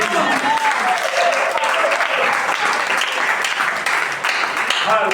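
Church congregation applauding and cheering continuously, a dense, loud wash of clapping with voices mixed in throughout.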